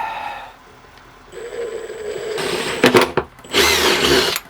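A power drill whines up briefly, stops, then runs again loudly and steadily, close by, drilling near a lithium battery, mixed with some handling clatter.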